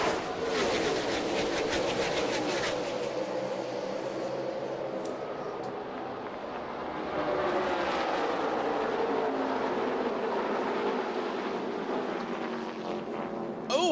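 NASCAR stock cars race at Michigan International Speedway, a constant drone of engines passing with pitch sweeps from the field, fairly faint and distant, with a brief crowd or broadcast noise at the start.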